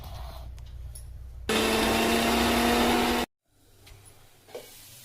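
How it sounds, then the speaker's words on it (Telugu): A kitchen mixer grinder whirs loudly for a couple of seconds while grinding fresh coconut with garlic and chili, its steady motor roar starting and cutting off abruptly, with quiet kitchen sounds before and after. "దీన్ని ఇప్పుడు మిక్సీలో వేసుకుంటాను"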